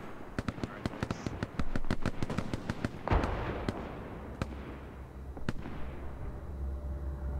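Gunfire in the video game Hell Let Loose: a rapid string of sharp rifle shots, then a heavier blast with a lingering rumble and a few more scattered shots, fairly close and loud.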